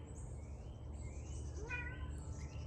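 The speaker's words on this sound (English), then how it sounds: "oh, look at this cat." A cat gives a single soft meow partway through, faint against a steady background hum, with no talk over it.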